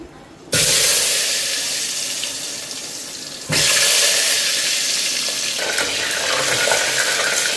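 Loud, steady sizzling erupts suddenly as potatoes hit hot oil in a pressure cooker, then surges again partway through, a dense continuous hiss up close.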